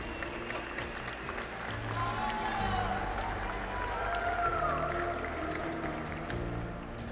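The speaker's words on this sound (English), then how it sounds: "let's give a big round of applause for Daniel" Audience applause rings out for competitor Daniel Gutierrez of Middlebury, Vermont, in round one of the 2022 US Barista Championship: dense, sustained clapping that holds steady at moderate volume for several seconds, with faint crowd murmur underneath.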